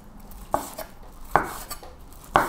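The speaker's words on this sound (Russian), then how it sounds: "Ну и теперь нарезаю остывший яичный блин." Knife chopping through a cooled egg crepe on a board, three sharp separate cuts spaced about a second apart, close and fairly quiet in a kitchen.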